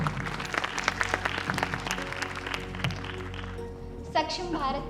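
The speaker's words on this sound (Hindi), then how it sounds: "तो चलिए आपकी जोरदार तालियों के साथ मैं बुलाना चाहूंगा" An audience at a women's empowerment event in India claps in a dense, steady burst of applause for a few seconds before it fades. Music and other sounds come in afterward.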